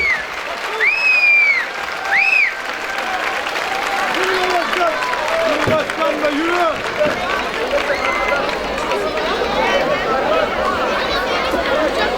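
Festival audience applauding a Zeybek folk dance show by a Turkish folk dance troupe, steady clapping that runs throughout under an announcer's amplified voice and crowd noise.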